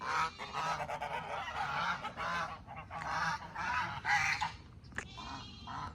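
Several geese honk repeatedly and loudly nearby, overlapping calls in a busy, uneven chorus with a brief pause near the end.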